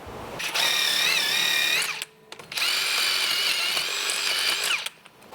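Power drill or impact driver spinning a socket on during a brake job on a flood-damaged car, two loud sustained whirring runs with a brief gap between them, close up and without speech.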